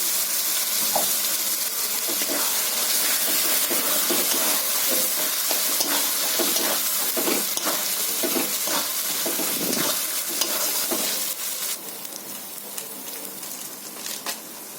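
Chilli powder and a splash of water hitting a hot pan of country chicken curry, a loud close hissing sizzle with repeated stirring clatter, easing slightly toward the end.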